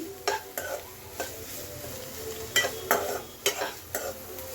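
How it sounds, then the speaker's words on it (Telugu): Egg fried rice ingredients roast in a pan over high flame, with a constant sizzle broken by about eight sharp spatula scrapes and clanks against the metal, close by and without speech. "ఇవన్నీ హై ఫ్లేమ్ మీద బాగా రోస్ట్ చేసుకుందాము"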